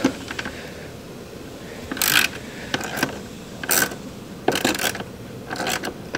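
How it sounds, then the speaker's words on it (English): A socket wrench fitted with a 7mm socket ratchets in short clicking bursts while loosening a bolt on a 2013 Ford Fusion during cabin air filter replacement, with quiet pauses between the turns. "Simply got my socket wrench with the 7mm on it, and I'm going to use it to just kind of break loose the bolt."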